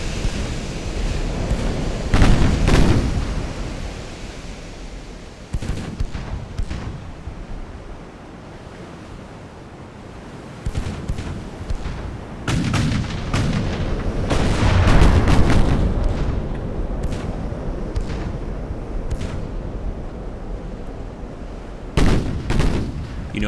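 Naval guns firing and shells exploding in the Ultimate Admiral Dreadnoughts warship game, several heavy booms spaced across a constant roar of ocean waves and wind, some louder and closer, others faint and distant.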